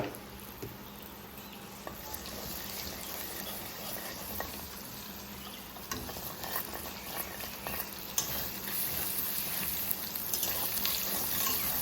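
Egg frying in a pan while making chowmein noodles, a steady broadband sizzle with crackles that holds evenly throughout, close and moderately loud, with no talking.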